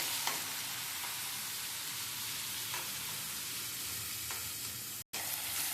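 Tomatoes fry in oil in a pan for a curry, a steady close sizzle with occasional stirring scrapes throughout and no talk.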